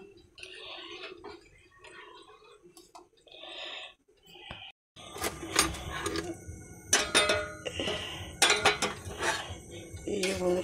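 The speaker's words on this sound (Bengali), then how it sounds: "একটু নেড়ে দিই।" A spoon scrapes and clinks against a pot while milk and semolina are stirred, irregular metallic taps and clatter after a quieter stretch, close by.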